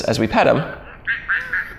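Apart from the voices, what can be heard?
My Special Aflac robot duck toy responding with a mad sound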